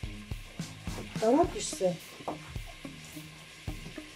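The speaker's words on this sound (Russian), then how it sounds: "Жароха началась уже" Carrots fry in a pan, sizzling in a low, steady layer beneath someone speaking Russian, with occasional clicks and scrapes of stirring.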